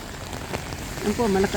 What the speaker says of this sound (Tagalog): Ngayon, malakas na naman po yung ulan.